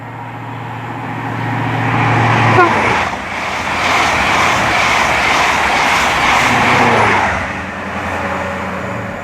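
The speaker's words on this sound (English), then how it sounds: "Now getting ready to pass through is 1 Alpha 85, the 1557 Great Western Railway service from Penzance to London Paddington." A Great Western Railway service from Penzance to London Paddington passes through Twyford station, a loud sustained roar of the train rushing by close at hand for several seconds before easing off.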